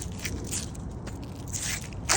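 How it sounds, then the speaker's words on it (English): Footsteps crunch through dry fallen leaves in a Colorado courtyard, making a steady, close, crackling rustle with brief louder scrapes near the end and no talking. "Love the sound of the crunching leaves under your feet."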